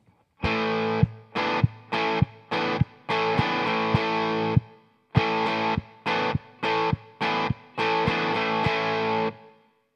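A distorted electric guitar plays the second guitar line of a song, sustained chords broken by short choppy stabs, loud and close, with no voices.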